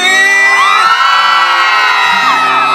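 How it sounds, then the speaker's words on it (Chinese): A concert audience at an outdoor art museum music festival screams and cheers loudly, a dense sustained roar of whoops and shouts, with music sustaining underneath. "尖叫声在哪里？"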